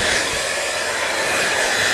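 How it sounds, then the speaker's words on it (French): Hair dryer blowing on a lace wig to set the glue, a loud steady broadband whoosh with a faint whine, close and continuous with no talking. "Prends le sèche-cheveux"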